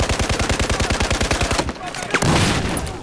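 Rapid automatic gunfire in Battlefield 4, a loud, evenly spaced burst of shots for about a second and a half, then a sharper impact and a noisy rumbling wash.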